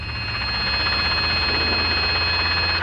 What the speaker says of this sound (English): Gonna do a horn check on the way up.